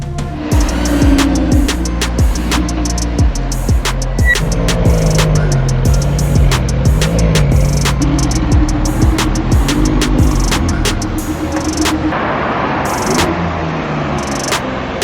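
A Lamborghini sports car engine rumbles and revs close by as it rolls in, with sharp clicks and steady background bustle throughout.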